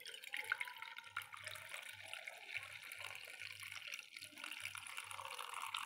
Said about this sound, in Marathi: यानंतर दुसरी पद्धत आहे पाणी गाळणे.